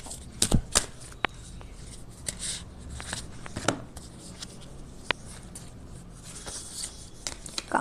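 Tarot cards are shuffled by hand in a run of crisp riffling flicks and soft slaps, with irregular sharp bursts over several seconds at a close, moderate level and no talking.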